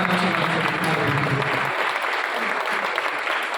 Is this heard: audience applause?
yes